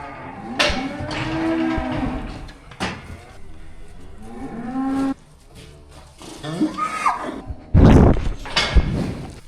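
Cattle on a farm moo several times in long, drawn-out calls, some close and loud, with clanks and rattles of metal gates or pens between them.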